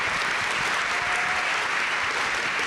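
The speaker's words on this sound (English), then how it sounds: "a round of applause for our global executive panel" Steady, dense audience applause for a global executive panel at a military spouse employment summit, continuous and even in level from start to finish, no talking over it.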